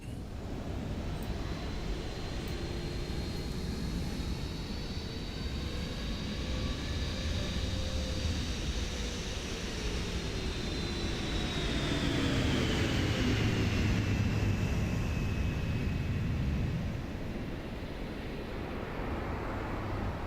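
A PMDG 777-300ER lands in a replay in the flight simulator MSFS 2024, heading toward Kathmandu. A steady, loud airliner engine roar and rush of air continue throughout, with a slowly falling whine and a low rumble as it touches down, with no talk.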